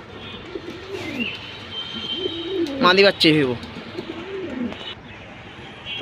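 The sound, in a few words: pigeons cooing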